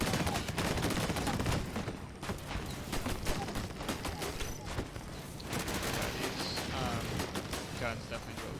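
Dense bursts of rapid gunfire from the video game Disintegration crackle continuously, overlapping in fusillade-like volleys at close range with no pause.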